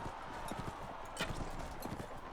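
Horse hooves galloping in Mount & Blade: Warband during a tournament, a rapid, rhythmic clip-clop with occasional sharper impacts, close and loud over game ambience.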